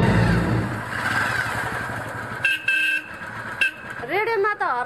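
Vehicle horns honk on a busy road, several short toots and one longer blare over motorcycle engine noise and traffic, with people talking.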